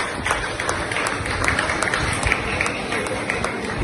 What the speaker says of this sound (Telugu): ఒక్కసారి వాళ్ళందరికీ చప్పట్లు కొట్టండి